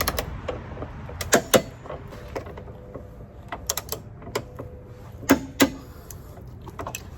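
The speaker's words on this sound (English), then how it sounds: "I'm going to be using my Tecton adjustable clicker torque wrench." Tekton adjustable clicker torque wrench tightening Jeep TJ body mount bolts to 50 foot-pounds: a few sharp close clicks and ratchet snaps, two paired at the start and two near the end, with lighter mechanical ticks between.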